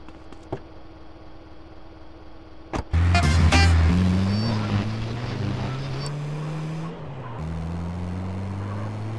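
A car in GTA San Andreas starts with a sharp bang and then drives away, the engine roaring loud and close with rising pitch through gear changes, and a few clicks before it.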